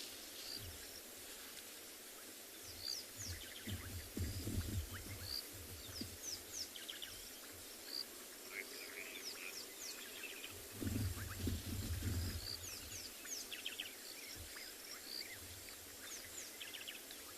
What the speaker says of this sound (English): I can just hear a couple of birds calling